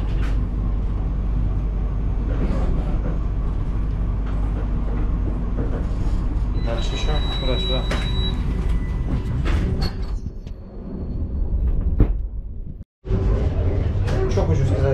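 Interior of a moving Russian passenger train: a constant low rumble and rattling of the carriage with clacks and creaks, a brief tonal squeal, and a sudden dropout near the end, with a voice talking over it.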